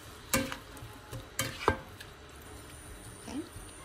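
Buckwheat spirals being stirred with salt in a pot, a few soft scraping and clinking strokes at irregular intervals over faint background sizzle, close and quiet.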